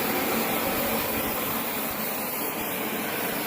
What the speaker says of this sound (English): to make that bend, have my handheld weed burner